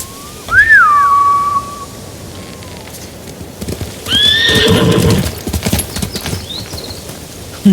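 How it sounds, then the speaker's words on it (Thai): Samurai horses in Ghost of Tsushima whinnying sharply and galloping off, loud close neighs at the start and midway with clattering hooves and whooshing wind between, no speech over them. "Bastards scared off the horses."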